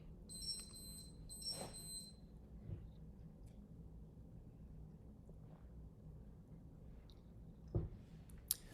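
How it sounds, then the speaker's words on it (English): A few faint, high electronic beeps from a Timex Ironman triathlon watch sound in the background, with a brief pair of tones near the start, over a steady low hum. "the beep you hear in the background, if you hear it, is a Ironman Timex triathlon watch"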